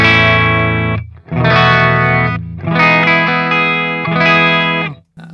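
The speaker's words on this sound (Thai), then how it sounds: "กีตาร์ต่อตรงเข้าเอฟเฟคจากเอฟเฟคเข้าแอมป์เลยนะครับก็ไม่ได้เปิดเอฟเฟคอะไรเลยเสียงคลีนเพียวๆนะครับ" Clean electric guitar sent through a bypassed BOSS GT-100 multi-effects unit into an amp, with a few strummed chords ringing bright and close, each sustained before the next and fading out at the end.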